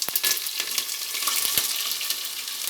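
Cumin seeds and green chillies, along with chana dal and urad dal, sizzle steadily in hot oil for a little millet vegetable upma, with a dense crackling hiss and a few sharp spatula clicks against the pan, close and continuous without talk.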